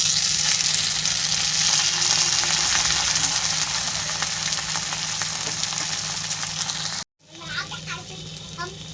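Loud continuous sizzling of chopped tomato frying in oil, gradually softening, then a brief break followed by quieter bubbling and a few light clinks.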